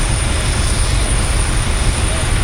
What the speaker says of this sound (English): look at a little garden tractor. Probably a single cylinder engine.